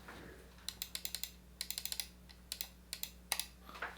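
Logitech MX Ergo mouse buttons clicked rapidly in bursts, a string of light, close, sharp clicks in irregular clusters with short pauses between, and no voices.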